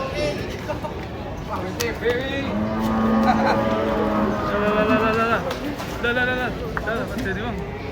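A giant cow being unloaded from a truck moos loudly in long, drawn-out calls, with people talking and a busy outdoor crowd around it.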